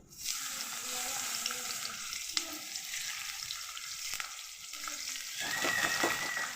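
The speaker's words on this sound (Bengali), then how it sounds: "তেল গরম হয়ে গেছে পেঁয়াজটা দিয়ে দেবো" Onion frying in hot oil for a homemade halim, a steady crackling sizzle that runs the whole time, close and fairly loud, with a brighter burst of spattering near the end.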